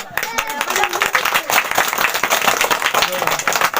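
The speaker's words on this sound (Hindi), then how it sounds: "एक बार जोरदार तालियां बजा दे" A crowd at a coaching centre's Republic Day program claps and applauds steadily throughout, dense and lively, with a voice faintly mixed in beneath the clapping.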